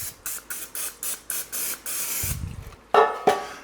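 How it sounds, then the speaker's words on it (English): Regular cooking spray greasing a banana bread pan: a series of short, evenly spaced hissing bursts, then one longer spray, followed by a couple of light clinks of the pan, close and fairly quiet. "I'm just going to use the regular spray"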